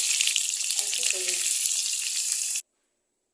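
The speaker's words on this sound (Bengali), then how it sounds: "কড়াইতে আমি প্রথমে তেল দিয়ে আলুগুলোকে আগে একটু ভেজে নেব" Loud, dense sizzling of lightly salted potatoes frying in oil in a wok, continuous for a few seconds with a brief voice over it, then abruptly stopping.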